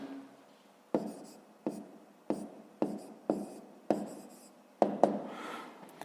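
Pen on paper as numbers are written by hand for a fifth-grade maths exercise: about seven short, scratchy strokes in an uneven rhythm, close and fairly quiet, with no voice.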